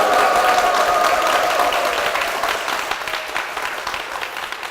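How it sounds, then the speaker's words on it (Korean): A church congregation applauds in a Korean church service: dense, sustained clapping from many hands that starts loud and gradually thins and fades over about five seconds. "우리 담임 목사님과 교회를 위해서 다시 한번 큰 박수 부탁드리겠습니다"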